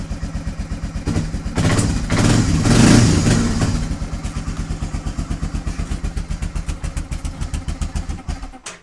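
A 1997 Honda 300 4x4 ATV cold-starting in snow: the engine swells to a loud rev within the first few seconds, then settles into a steady, rapidly pulsing idle close by.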